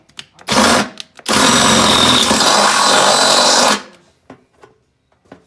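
A power drill bores out a hole to enlarge it, likely from 3/8 to 1/2 inch, while fitting a new seat; a short burst is followed by a long, loud continuous whir, then faint knocks.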